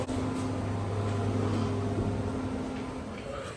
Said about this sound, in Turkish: Şu an bu çıkan ses ısıtmanın sesi bilginiz olsun.